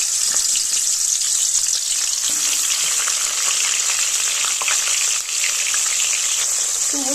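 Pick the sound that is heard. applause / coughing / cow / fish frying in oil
fish frying in oil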